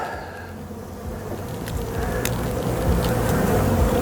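Honeybees buzzing around an open hive whose colony is growing and bringing in nectar, a loud dense close-up hum that swells slightly over a few seconds with individual bees passing near.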